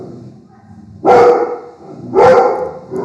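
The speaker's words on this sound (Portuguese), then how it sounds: "Ai, minhas cachorras começaram." Two loud, close dog barks about a second apart from pet dogs indoors, with quiet room noise between them.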